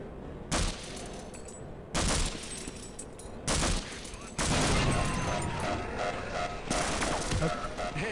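Automated turrets in Half-Life fire in loud, dense bursts, three short volleys spaced about a second apart, then a longer sustained stream of rapid gunfire that keeps going with brief surges.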